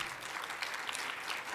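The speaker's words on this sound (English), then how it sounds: "I feel like you're clapping for me." An audience applauds at a live evening conversation event welcoming author Ali Wentworth, a dense, steady wash of many hands clapping close and loud throughout without pause.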